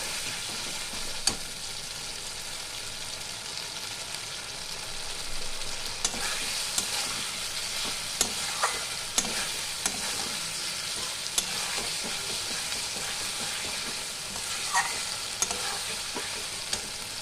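Masala being sautéed with fried potatoes in a pan for chhanar dalna, a steady oily sizzle broken by scattered sharp scrapes and clicks of the spatula stirring, close and without speech.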